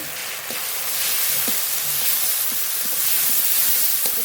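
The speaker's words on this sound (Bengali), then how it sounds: "জল মশলা নেড়ে নেড়ে খুব ভালো করে কষিয়ে নিয়েছি" Ground spice paste of coriander, cumin, dried chili, ginger, garlic, green chili, salt and turmeric fries in oil for a rohu fish curry, giving a steady, close hiss and sizzle with faint stirring knocks.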